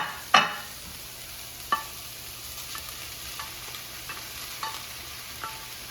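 Vegetables tipped into a hot pan of ground turkey for fajitas, then stirred: a sharp sizzling burst at the start, followed by a steady low fry with occasional spoon scrapes and clinks, close and fairly quiet.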